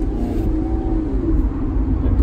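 Maserati V8 engine of Ferrari origin, as fitted to the Modena and F430, running with a steady low rumble and a slight rise in pitch, close by and continuous with no talk over it.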